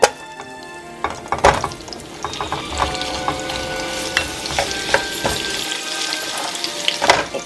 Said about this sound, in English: So I'm just gonna fry this up lightly or saute it with an onion.